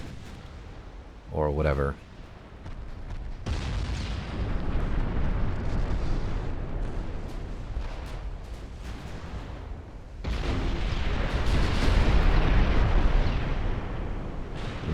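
A warship suffers a flash fire explosion during a naval battle in Ultimate Admirals: Dreadnoughts, with loud, sustained rumbling blasts and roaring fire noise under brief talk.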